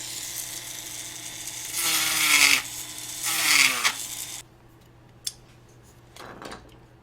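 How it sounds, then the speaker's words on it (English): A tapered bit widens a hole in a $20 lightsaber prop so a button just fits, giving two close, harsh grinding bursts of a few seconds each, followed by a few faint scrapes and clicks. "I'm using this tapered bit to slowly make that wider until it just barely fits this button here"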